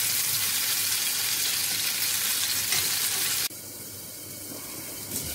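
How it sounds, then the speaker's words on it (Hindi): Stuffed ridge gourd (turai) fries in a pan with a dense, continuous close sizzle that drops abruptly to a quieter crackle partway through. "ये तुरई उलटते पलटते रहना है ताकि चारों तरफ से अच्छे से पक जाए"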